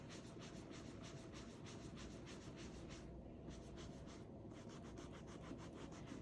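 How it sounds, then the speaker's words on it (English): A cloth rubs and buffs a leather tote strap after saddle soap cleaning, giving a steady, close, dry rubbing hiss with a faint rhythmic back-and-forth texture and a brief pause midway. "buffing it out a little bit to remove any kind of lathered residue that was left on the strap"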